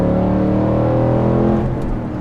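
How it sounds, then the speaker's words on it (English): A Ford Mustang GT fitted with an aftermarket exhaust revs loudly and close, a deep continuous engine roar that holds steady and then eases off at the end. "This one also has an aftermarket exhaust. Sounds really awesome."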